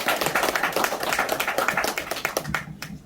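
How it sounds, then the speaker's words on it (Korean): A forum audience claps in welcome, a brisk burst of many hands applauding together for about two and a half seconds before quickly dying away. "자, 박수로 한번 환영합니다."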